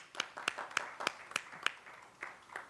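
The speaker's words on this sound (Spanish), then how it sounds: "Aplaudimos a Jujuy." Scattered applause from a small audience at a talk on early-childhood participation, a few separate, uneven claps standing alone without voices.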